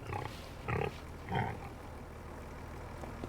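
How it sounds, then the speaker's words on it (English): Pigs on a snowy farm giving two short grunts in close succession, fairly near, over quiet outdoor background with no talk. "It's cold out here, pigs."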